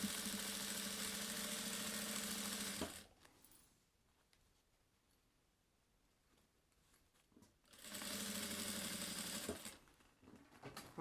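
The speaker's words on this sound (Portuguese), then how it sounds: "E costura pé de máquina." A domestic sewing machine stitches a fabric lining to a patchwork cosmetic bag piece, running in two loud, close bursts of steady whirring separated by a quieter pause with faint handling noise.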